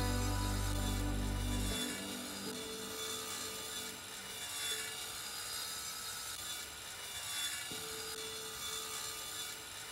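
In the survival game Sunkenland, wood is being sawn with steady rasping strokes that run continuously, with a low hum and tonal game sounds underneath.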